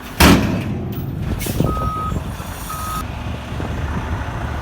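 A dirt-hauling truck pulls in with its engine rumbling steadily, while a reversing alarm sounds two evenly spaced beeps over the low vehicle noise.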